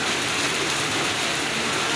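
Heavy rain pours steadily, a dense, loud, unbroken hiss with no voices.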